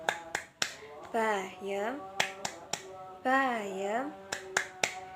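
A class chants the 'tepuk bayam' clapping jargon at the start of an education lesson: sharp hand claps in a steady pattern alternate with children's sung chant phrases, close and lively.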